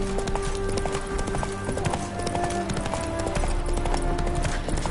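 Hooves of the horse Roach clip-clop at a gallop in The Witcher 3, a fast steady rhythm under game music, with a brief voice breaking in.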